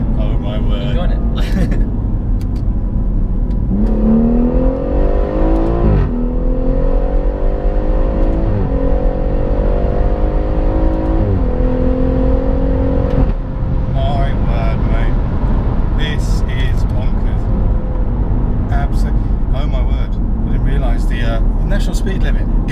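430 bhp Motech-tuned BMW M140i Shadow Edition accelerating hard from inside the cabin, engine pitch climbing through several gear shifts with a loud, steady drone, then settling as people talk over it.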